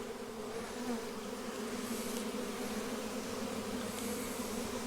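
A late-July honey bee swarm hums around a hive in a steady, continuous drone at moderate distance, with a few louder buzzing passes standing out briefly, with no voices.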